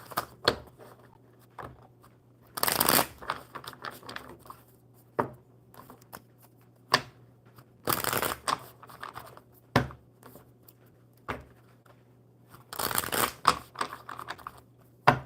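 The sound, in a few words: shuffling cards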